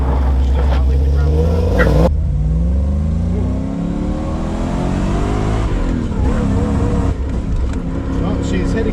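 Engine of a supercharged Toyota Supra revving up toward 4,000 RPM, a loud sustained rising drone with steady harmonics, a voice talking over it near the start.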